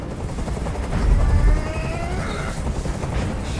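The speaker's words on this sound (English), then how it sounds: "Tell that helicopter to get out of here." Helicopter in the video game Detroit Become Human, a steady rotor drone hovering overhead with a broad rumbling wash that swells slightly midway, loud and continuous throughout.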